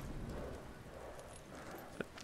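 Horse hooves clip-clop steadily at walking pace in the video game Ghost of Tsushima, a close, quiet rhythmic patter with a sharper knock near the end.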